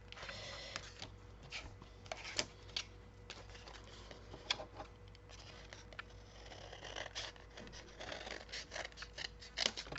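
Scissors snip through paper in a run of short, crisp cuts, close and fairly quiet, with soft rustling of the paper between strokes and no one talking.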